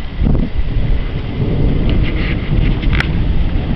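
Heavy rain and thunderstorm outdoors, a loud continuous roar of rain with low rolling thunder rumbles and gusty wind noise buffeting the microphone, with no talking.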